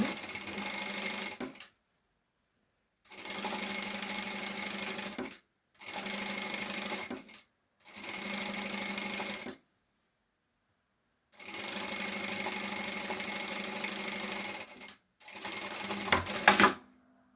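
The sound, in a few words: sewing machine topstitching a shoulder seam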